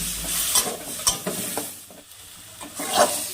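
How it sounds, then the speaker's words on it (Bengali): Masala for a chital fish dish is stir-fried with a little water, with quick scraping stirs against the pan over a soft sizzle, close by and in short bursts. "এবার অল্প জল দিয়ে মশলাটাকে ভালো করে কষিয়ে নেব।"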